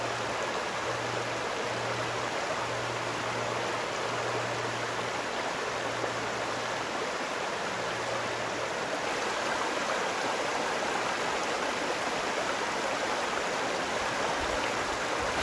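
River rapids on the Dungeness River where it drops over a wide rocky stretch, a steady, broad rushing of water with no voices.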